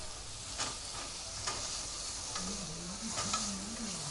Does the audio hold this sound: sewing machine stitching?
no